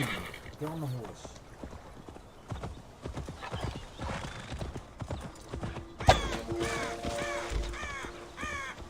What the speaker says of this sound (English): Come on, get on the horse.